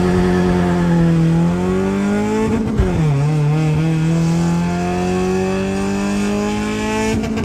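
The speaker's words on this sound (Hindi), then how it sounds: "अभी हम शेरी किंग फ्रॉम फुरके गराज के साथ जा रहे हैं एक अदर टोयोटा करोला की टेस्टिंग मेस्टिंग करने।" A modified Toyota Corolla race car on a test run, its engine loud and close as it revs up through the gears with a brief lift and shift midway, then pulls hard again.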